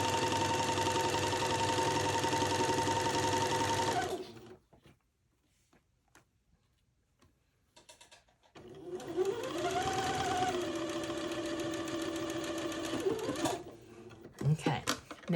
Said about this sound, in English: now I have sewn both of these 1/8 inch seams on both sides of the body